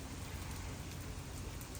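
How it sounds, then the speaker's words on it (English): Rain falls steadily on an early, chilly morning during a motorcycle trip, a soft, even hiss with no break that stays faint and continuous throughout. "It's actually raining."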